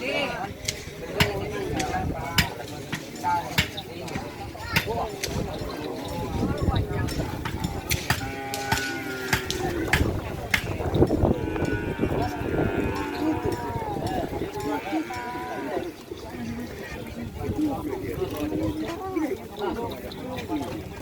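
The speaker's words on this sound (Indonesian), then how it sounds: "Ini teman-teman, ini sapi Bentar Alam." Cattle of the Bentar Alam team on Sapudi Island low and moo repeatedly at close range, with some bleat-like calls, under steady talk from people nearby.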